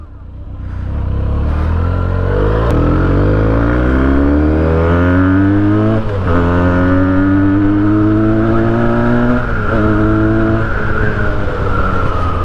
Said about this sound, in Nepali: just listen to the pure sound, the pure inline 2 cylinder engine